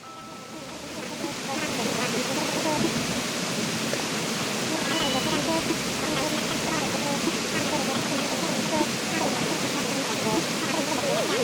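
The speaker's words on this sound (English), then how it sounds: "You sound so quiet because of the waterfall." The waterfall in the Animal Crossing: New Horizons video game gives a steady, dense rushing hiss that rises slightly at first and then holds constant, loud and close throughout.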